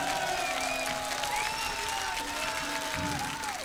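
Applause from a concert crowd at Przystanek Woodstock 1997 for a guest musician, dense sustained clapping with musical tones ringing over it.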